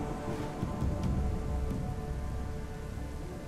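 Steady heavy rain pours down during a night storm in the dinosaur survival game The Isle Evrima, a dense, continuous hiss with a low rumble swelling briefly near the middle.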